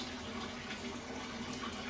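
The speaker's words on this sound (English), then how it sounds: "my bath water is running, so it's kind of loud" Bath water runs from the tap in a steady, even rush that fills the whole moment with constant watery hiss, with no talking over it.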